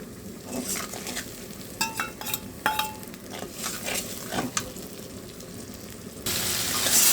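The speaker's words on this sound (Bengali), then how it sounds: "এখন আমি এটা একটু চামচ দিয়ে নাড়িয়ে নেব" A spoon stirs spiced masala frying in oil in a pan, with scraping clinks and clatters against the metal over a bubbling sizzle that grows louder and hissier toward the end.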